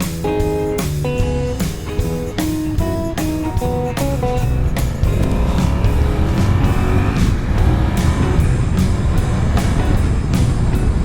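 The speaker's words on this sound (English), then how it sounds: "Oncoming traffic." Oncoming cars on an Alpine mountain road rush past at close range in a steady, loud stream, with engine drone swelling as each vehicle draws near.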